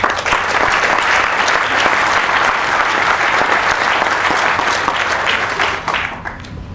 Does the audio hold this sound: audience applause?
yes